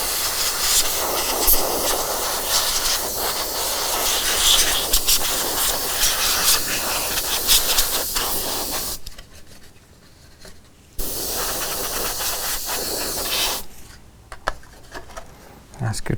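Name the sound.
airbrush blowing air only to clean dust off Imperial Knight model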